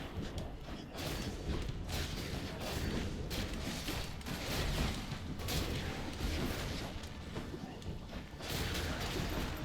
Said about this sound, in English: Whoa, that was a lot of explosions all in one area.